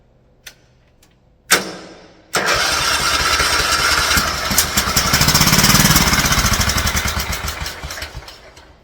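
An engine with a faulty ignition cranks briefly, then fires and catches. It settles into a loud, close, steady running roar with a rough pulsing idle and no talking.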